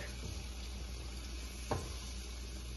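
Coconut milk from a can poured into hot oil, sizzling and frying steadily at a moderate level, with a brief soft knock of a spoon or pan midway and no talk.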